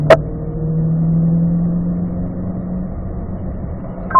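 A car pulls through fourth gear on a track, its mid-pitched engine note holding steady and loud before fading out, with a short sharp transient at the very start.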